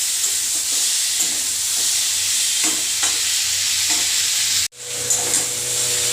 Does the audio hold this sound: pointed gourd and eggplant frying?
yes